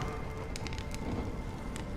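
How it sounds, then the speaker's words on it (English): Rain falls in the video game Honkai Star Rail, a dense, steady hiss of drops on surfaces with a few sharper patters scattered through it, heard alone. "When will this rain ever stop?"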